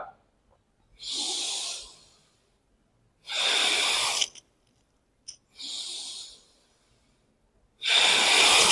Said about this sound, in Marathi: लांब श्वास घेत घेत वर खाली